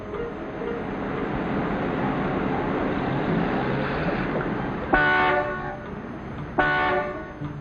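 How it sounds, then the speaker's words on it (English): Car horns honking in a stalled traffic jam during a 1950s evening rush hour: a dense rumble of idling traffic, then two long, loud horn blasts, one after the other, with no voices. "Will you stop honking, Mac?"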